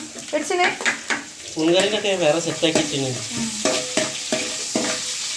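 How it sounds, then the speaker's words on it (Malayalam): Garlic sautéing in a hot pan in a home Kerala kitchen, with a steady sizzle and repeated clinks and scrapes of a spoon stirring, while a voice talks over it. "അപ്പൊ ഇത് വഴറ്റുന്നു"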